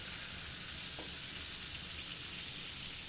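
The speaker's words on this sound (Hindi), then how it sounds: "देखिए हल्के से हमारी मिर्ची फ्राई हो चुकी है" Green chili peppers frying gently in a pan of oil for an amla (Indian gooseberry) pickle, a steady soft sizzle and hiss running evenly throughout without a break, with no talk.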